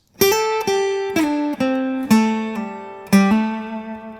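A short minor blues lick on electric guitar, about half a dozen clean plucked notes stepping downward with slight slides, played alone.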